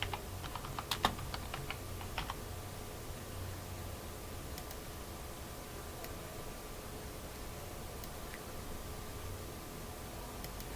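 Typing on a computer keyboard into a search box, a quick burst of close key clicks in the first two seconds, then a steady low hum with a few isolated taps.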